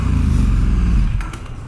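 Aprilia Tuono motorcycle with an aftermarket exhaust passing close by, a loud throbbing low-pitched burble that fades away as it goes.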